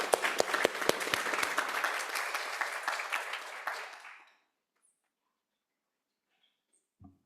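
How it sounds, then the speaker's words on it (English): Audience applause at a Santa Rosa Junior College board meeting, a steady burst of many hands clapping for about four seconds that then stops abruptly, followed by near silence. "Let's give them another round of applause."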